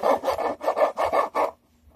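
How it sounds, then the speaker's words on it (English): A file rasping back and forth across the wooden body of a fake Stratocaster guitar, six even rhythmic strokes close up, then quiet. "But what I'm doing, it's pretty much filing."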